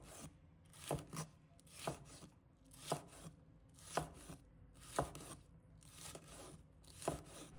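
A knife chops red pepper on a cutting board for a cucumber salad, about ten crisp, evenly spaced strikes, close and clear with no talking.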